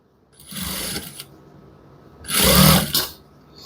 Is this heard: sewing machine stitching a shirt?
yes